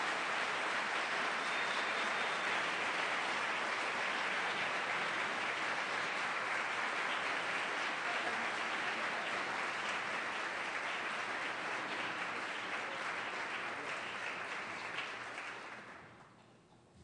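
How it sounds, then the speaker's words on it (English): An audience at a Portland mayoral debate applauds as the debaters take their podiums: sustained, dense clapping from a large crowd that holds steady for about fifteen seconds, then fades quickly. "You can clap now."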